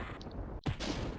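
A single sharp gunshot fired at an elemental in a first-person shooter, a brief loud crack followed by a short rumbling tail over steady game ambience.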